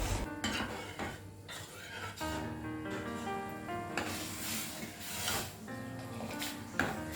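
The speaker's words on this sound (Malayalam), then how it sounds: "ഇതുപോലെ ഇളക്കി എയറേറ്റ് ചെയ്തുകൊണ്ടേയിരിക്കണം കേട്ടോ." A spoon or ladle keeps stirring and aerating Kashmiri pink chai in a pot, a continuous scraping, swishing sound with occasional clanks against the metal.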